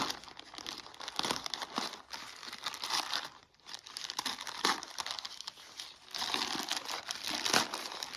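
Plastic packaging on a parcel of clothing crinkles and crackles continuously as it is torn open and handled close by, with a brief quiet pause near the middle before the rustling resumes.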